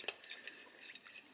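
A utensil stirs melted butter in a pan for Christmas Krispie treats, giving soft light scraping and clinking taps close by and at low volume.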